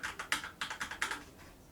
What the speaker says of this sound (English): Now you want to hit function and delete afterwards, and that keeps them all on.